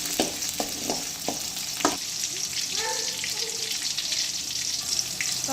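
Small shallots sautéing in oil for milagu kuzhambu pepper curry, a steady crackling sizzle with several sharp spoon clicks against the pan early on.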